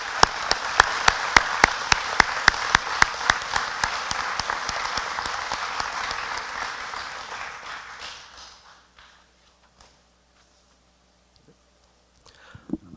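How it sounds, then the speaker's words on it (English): An audience at a high school career center Veterans Day assembly gives a final round of applause, loud and sustained, with a few sharp claps standing out before it fades out after about eight seconds, followed by near silence and a few stray sounds. "Let's give everyone one more round of applause"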